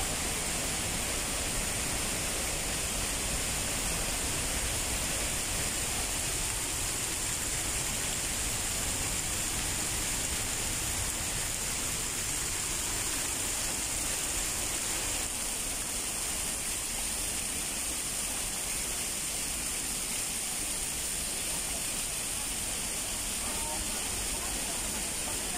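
Maria Cristina Falls roars as a constant broad wash of rushing water, steady and loud throughout, with a voice speaking faintly underneath.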